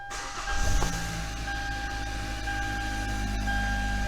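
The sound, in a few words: Hyundai Elantra GT engine starting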